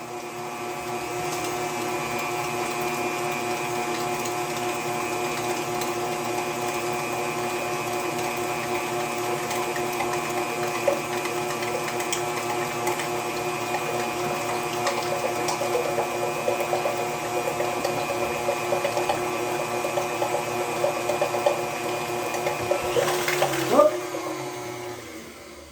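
An electric mixer whirs steadily in a kitchen, blending pumpkin custard pie filling, a constant motor hum with a sharper clatter near the end; faint talk sits beneath it.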